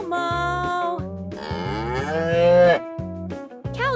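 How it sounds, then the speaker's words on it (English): A cow moos repeatedly in a farm-animal scene, several long, loud lowing calls close by with short pauses between them and no talking. "Cows say moo, moo."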